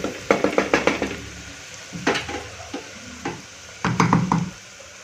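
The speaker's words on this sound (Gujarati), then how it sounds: "હવે આને હલાવી દઈશું હળદર મરચું અને ડુંગળી બરાબર સરસ ચડી ગયા છે" A spoon stirs turmeric, chili and cooked onion in a pan for a green moong dal curry. Quick scraping strokes come first, then spaced-out scrapes and clanks of the spoon against the metal, close by and clear.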